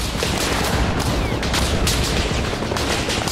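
Sustained gunfire in the military shooter Arma Reforger, a dense, continuous fusillade of overlapping rifle and machine-gun shots with heavy booming reports, loud and close throughout with no pauses.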